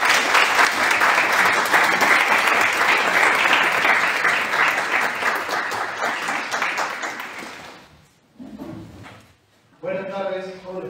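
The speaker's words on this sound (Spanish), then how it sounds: "espero que tengan ahora el placer y el honor de recibirlo con un fuerte aplauso" Loud, sustained audience applause welcoming a speaker to the stage at a talk on parenting in postmodernity, fading out around eight seconds, after which a voice speaks briefly.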